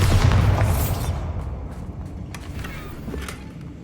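A Bombarda spell explosion in the Hogwarts Legacy video game: a loud, booming blast at the start that decays into a rumbling tail with scattered crackles.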